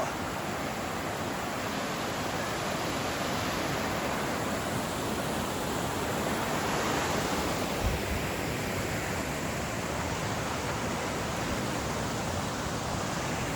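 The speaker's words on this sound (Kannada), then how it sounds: "ವಾವ್, ಫಾಲ್ಸ್ ಇದೆ, ಫಾಲ್ಸು" A mountain waterfall roars as a loud, steady broadband rush that holds unbroken throughout, with no voices over it.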